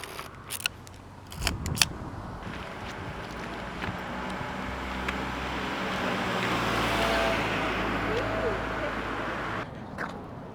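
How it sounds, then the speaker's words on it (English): A car passes on a road near a pier in Puerto Rico, its rush swelling from faint to a loud peak and fading away, after a few sharp camera clicks at the start. "Just waiting for a few cars to pass"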